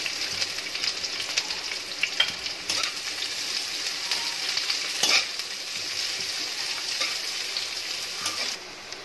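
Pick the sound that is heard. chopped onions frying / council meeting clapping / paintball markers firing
chopped onions frying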